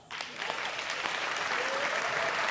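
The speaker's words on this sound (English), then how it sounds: "Give them an applause." An audience applauds a section of children at a community State of Africatown gathering, a sustained wash of clapping that swells in after a brief quiet start and holds steady, fairly loud and broad with no speech over it.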